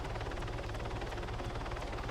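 Little Bird helicopter flying low in the military game Arma 3, a steady dense rotor and turbine drone with a faint rhythmic blade thump throughout, heard alone at a constant loudness.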